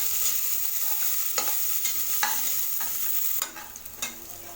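Onion being sautéed in a pan for dal rice (arisi paruppu sadam): a steady frying sizzle runs throughout, broken by several sharp scrapes of a spoon stirring the pieces, loud and close, with no talking.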